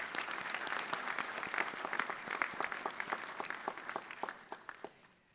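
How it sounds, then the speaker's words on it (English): An audience at a university commencement ceremony applauds the graduates' loved ones, a full round of clapping that thins toward the end into a handful of distinct, individual claps. "So a big round of applause for all the loved ones you had here."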